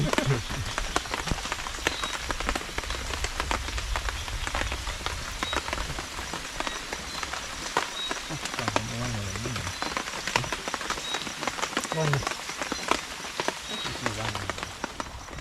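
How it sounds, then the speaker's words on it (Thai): Steady rain falls on surfaces outdoors at night near a fishing spot, a dense continuous patter with faint voices talking underneath. "ฝนก็ยังไม่ยุดเลยครับ"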